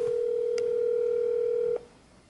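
A telephone dial tone holds steady for almost two seconds as a call is placed, with a faint click before it cuts off into quiet line hiss.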